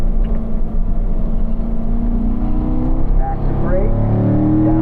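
A car accelerating hard and shifting up on the Spring Mountain race track, its engine note climbing steadily and stepping through a gear change, loud and close, with a voice talking over the engine throughout.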